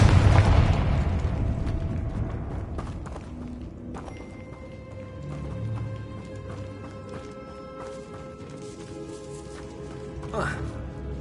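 A deep, booming burst from the Confringo blasting spell in the Hogwarts Legacy video game hits loud at the start and rumbles out, followed by quieter game ambience with spoken lines.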